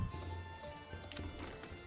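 Horse hooves in the medieval city-building game Manor Lords, a quick run of light clip-clop steps over a low hum of village ambience, faint and close together across a couple of seconds.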